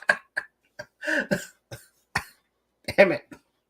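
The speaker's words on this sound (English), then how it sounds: "I've coughed so much it hurts." A string of harsh, forceful coughs from a person, bursting out in uneven clusters with short pauses between them, close and fairly loud, with no talking.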